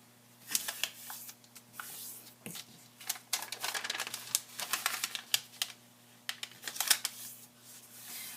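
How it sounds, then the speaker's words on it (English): Origami paper being folded diagonally and creased for a dragonfly model, with crisp rustles, taps and sharp crinkling creases in irregular bursts, close and quiet over a low steady hum. "with the color side facing up, fold in half diagonally both ways"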